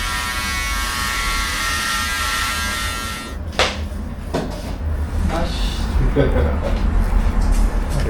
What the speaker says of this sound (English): it seems to be a good razor, but also my beard is not really that thick, so I think it's easy to cut it